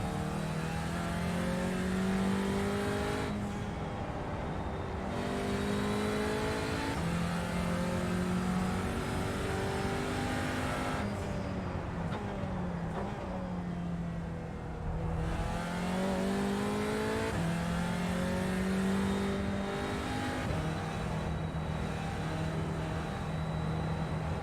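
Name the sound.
Audi TCR race car engine on qualifying lap, Road America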